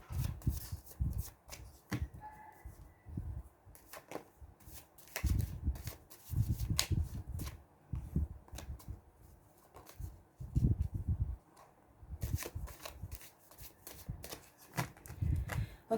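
Tarot cards shuffled by hand in repeated bursts of riffling and flicking, close and fairly quiet, with short pauses between bursts and no talk.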